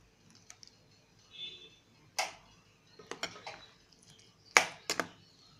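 A spoon stirs yogurt and bottle gourd raita in a bowl, making sparse, irregular clinks and scrapes against the bowl. The sounds are close and fairly quiet, with short gaps of near silence between them.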